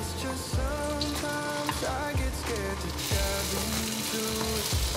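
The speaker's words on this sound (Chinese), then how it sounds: "先让它稍微煎一下，" Enoki mushroom and shiitake meat strips fry in oil in a pan with a steady crackling sizzle, close and continuous, under a faint musical background.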